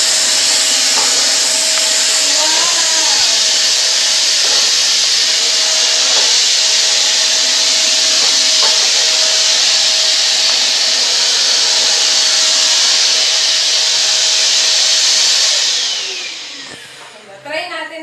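A cheap handheld vacuum cleaner runs loud and steady with a whining roar for about sixteen seconds while cleaning dust from windows, then cuts off near the end.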